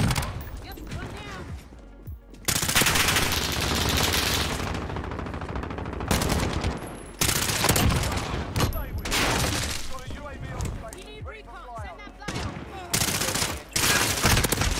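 Rapid gunfire from a shooter video game crackles in dense bursts of shots and volleys, loud and close, separated by brief pauses, with a player talking over the action.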